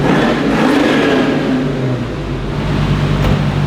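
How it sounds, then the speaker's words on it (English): A carburetted car engine runs hard on a dyno, holding a loud, sustained high rev with a steady droning whir that barely rises or falls. "And it just keeps revving too."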